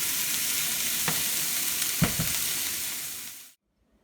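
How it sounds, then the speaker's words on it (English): Broccoli, onions and mushrooms sauté in olive oil with a steady broadband sizzle and a few soft stirring clicks, close and continuous, then cut off abruptly to silence near the end. "is saute these in some olive oil"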